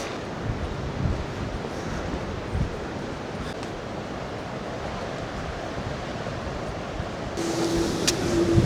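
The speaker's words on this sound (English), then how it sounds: "the sand is being kicked up by the wind" Strong wind blowing at the seaside, a loud steady roar of buffeting gusts with surf-like rushing across the whole stretch, no voices.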